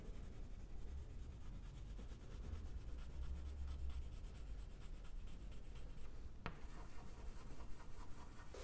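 Close, steady scratching of a pen or marker drawing green lawns on paper, continuing for several seconds with a brief break near the end.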